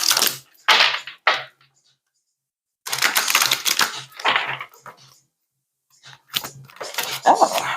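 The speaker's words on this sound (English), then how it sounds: "this is not shuffling very cohesively" Oracle cards are shuffled by hand in short, uneven bursts of papery riffling and slapping, with pauses between bursts, close and moderately loud.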